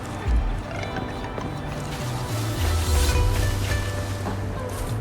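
A waterfall in the video game Wuthering Waves rushes steadily as broad, continuous water noise with low swells and some gusty wind, fairly loud and without speech.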